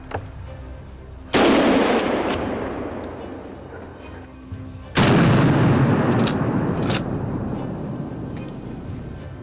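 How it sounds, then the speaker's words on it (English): Rifle gunshots during a wild boar hunt outdoors: two loud, sharp blasts a few seconds apart, each followed by a long rolling echo that slowly fades, with no voices. "The shots rang out like a warning."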